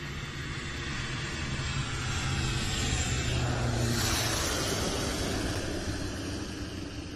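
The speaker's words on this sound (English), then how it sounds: "I'm just going to wait for this plane to land." A small airplane comes in to land near a safari camp in South Africa, its engine drone swelling steadily to a loud peak mid-clip and then easing off, heard alone over outdoor ambience.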